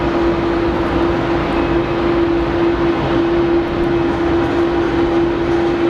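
An Etihad Boeing 787 Dreamliner at Geneva Airport produces a continuous, even engine roar with a steady humming tone running through it, fairly loud and without voices.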